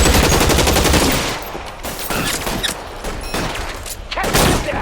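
Rapid bursts of gunfire from the crime video game L.A. Noire, loud and dense at the start, then continuing in scattered shots and volleys through the rest.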